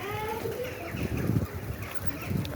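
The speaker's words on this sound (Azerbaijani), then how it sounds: "Quşlar gəlibdir." Birds calling outdoors under an open sky, soft low cooing and a few brief higher calls over rumbling background noise, fairly faint.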